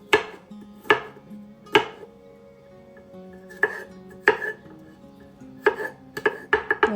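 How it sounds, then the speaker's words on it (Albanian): Two garlic cloves being minced with a knife on a cutting board, sharp chopping knocks arriving singly at first, then in a quicker cluster toward the end, close and clear with no talking. "ndërkohë do të grijmë 2 thelpi hudhër"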